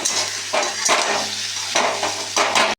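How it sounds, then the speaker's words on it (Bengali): Vegetables fry with green chilli, grated ginger and spices in a pan, sizzling loudly and continuously as a spatula scrapes and stirs in several strokes nearby. "এটাকেও ফ্রাই করে নেব ভালো করে"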